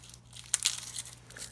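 Papery skin is peeled off garlic cloves in a kitchen, a few soft crinkles and dry crackles close by against quiet background hum, with no talk.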